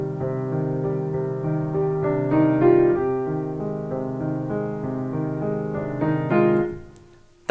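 Piano played with the sustain pedal, a flowing passage with notes ringing together and blending, sustained and moderately loud, ending with a decay into quiet.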